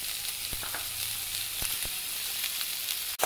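Onion and dry chilli sizzling in hot oil in a frying pan, a constant close hiss with a few soft clicks and taps of a utensil, no voices.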